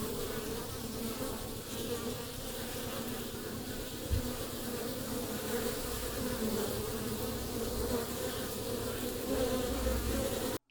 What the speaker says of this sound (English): we get some bee recordings, nothing too crazy there